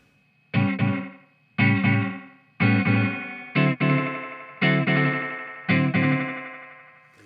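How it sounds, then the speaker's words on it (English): Electric guitar through a Dreadbox Nostalgia three-stage delay with the first stage's feedback raised: six separate strummed chords, each trailed by quick stuttering repeats in a triplet-like pattern, clear and close with silence between. "This is the feedback of the first delay stage."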